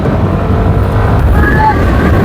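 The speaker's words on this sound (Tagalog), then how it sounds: "Lakas ng hangin." Strong wind roars steadily across an outdoor road cycling race in San Jose City, with engine rumble underneath and voices talking faintly.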